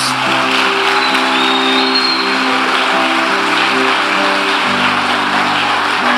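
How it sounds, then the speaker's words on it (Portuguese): A church congregation claps for Jesus in a steady, dense wash of applause that fills the room, with sustained keyboard or organ tones underneath. "Dá um aplauso aí ao Senhor Jesus."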